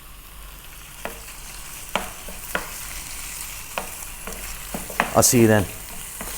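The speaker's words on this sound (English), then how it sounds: "we're going to get our meat, our beef in there, and we're going to fry this first" Fatty beef frying in a pan, a soft steady sizzle punctuated by occasional sharp pops and clinks, with a brief stretch of talk near the end.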